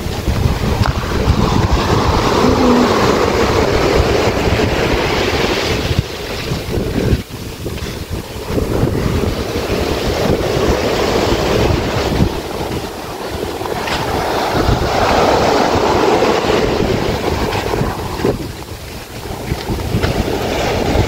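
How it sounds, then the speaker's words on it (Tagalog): Ocean waves with a strong current at Pagudpud beach in Ilocos Norte, Philippines, a continuous roar of surf heavily buffeted by loud wind noise on the microphone, with no talking. "Lakas ng agos."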